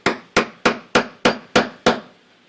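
Seven sharp mallet strikes drive a round gouge into wood while carving a skull relief, evenly spaced, close and crisp, with no talking.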